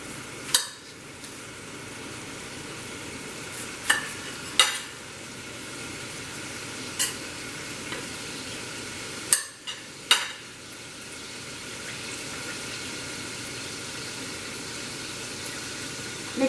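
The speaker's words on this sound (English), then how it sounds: "I'm going to saute the garlic before I put this together" Garlic sautéing in a pan for an Egyptian molokhia dish gives a steady, soft frying hiss, broken by a few sharp clinks of a utensil against the pan.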